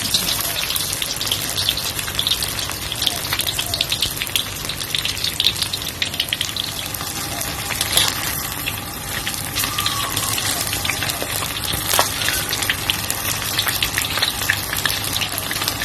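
Battered water spinach sizzles in hot oil, a continuous loud crackling and spattering that holds steady the whole time with occasional sharper pops.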